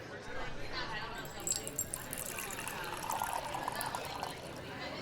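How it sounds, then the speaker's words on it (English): Tea poured from a pot into a cup, a soft liquid trickle and fill running steadily under a room's background noise, with a faint rising tone near the end as the cup fills. "Can I pour you some tea?"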